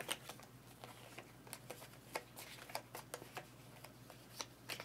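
Agricola board game cards being shuffled, a quiet run of crisp riffling flicks and taps in an uneven rhythm, close by with no talk.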